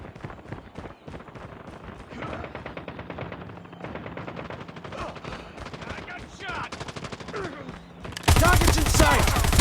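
Rapid light-machine-gun bursts and pistol shots fire in COD Mobile, dense repeated cracks through most of the stretch, then a sudden louder burst of noise at the end, with game voices faintly mixed in.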